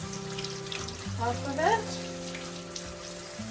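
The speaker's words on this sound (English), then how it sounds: "want to really rinse that corn off, all that starch" Canned corn is rinsed under running tap water, a steady close hiss and patter of water over the kernels, with a person briefly talking over it.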